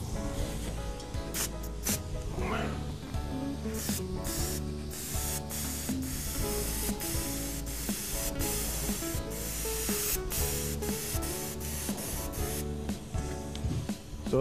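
A final coat of color sprayed onto leather during a repair: a loud, continuous hissing spray with brief pulses and pauses, close to the listener, with no talking.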